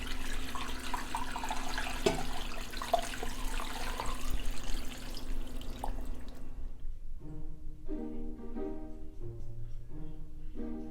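Water pours steadily into a pot with a broad rushing splash, then stops, leaving a few faint clinks and knocks nearby.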